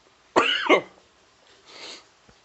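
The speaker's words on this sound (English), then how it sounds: "sorry if I'm coughing" One sharp, close cough from something going down the wrong pipe, followed by a softer throat-clearing breath, otherwise quiet.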